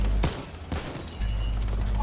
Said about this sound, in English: I'll count to three, we'll both shoot them at the same time.